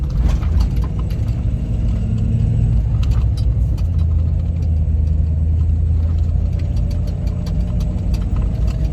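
A car drives down a bumpy dirt road after new shocks were fitted, its engine a steady low rumble throughout, with occasional knocks and rattles from the suspension over bumps.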